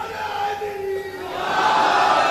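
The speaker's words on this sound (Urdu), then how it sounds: "ایک واحد شخصیت موجود ہے کہ مسلسل نعرے لگا رہے ہیں" Crowd at an Urdu poetry gathering raising slogans, a sustained roar of many voices that swells louder toward the end, with a single voice briefly standing out early on.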